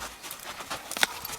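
Faint clip-clop of a young filly's hooves, a few irregular soft strikes with one sharper hit near the middle, heard alone without talk.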